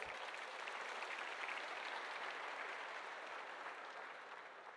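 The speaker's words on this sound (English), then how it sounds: "this deserves certainly a round of applause for their hard work" Audience applause at a live Heartfulness meditation gathering, a steady wash of many hands clapping that holds evenly for several seconds before thinning slightly at the end; fairly distant and soft.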